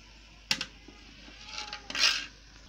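A spoon scraping and clinking inside a cooking pot while stirring Afang soup made with palm kernel water, a sharp knock followed by rasping stirring strokes, close and fairly quiet, no voices.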